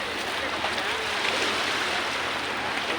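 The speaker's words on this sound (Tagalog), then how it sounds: "Ayan ang dagat. Ayan ang alon." Steady rushing wash of ocean waves, broad and continuous, with a faint murmur of voices underneath.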